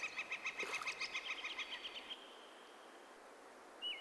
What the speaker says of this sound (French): La zone d'eau libre autour de la hutte attire les canards, comme ces garrots à œil d'or.